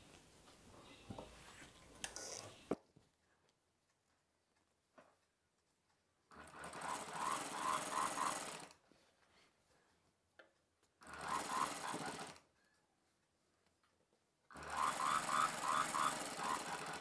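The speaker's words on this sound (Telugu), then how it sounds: "ఇలా ఫోల్డ్ చేసేసి ఫస్ట్ ఇక్కడి వరకు మనం కుట్టు వేసేసుకోవాలి" A sewing machine stitches palazzo pant fabric in three separate runs, each a steady whirring burst lasting one to two seconds with quiet pauses between, after a brief handling noise at the start.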